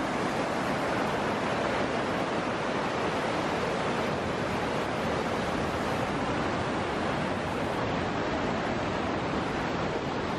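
The Merano River flows in a constant, dense rushing roar, loud and unbroken throughout, like close whitewater with no voices.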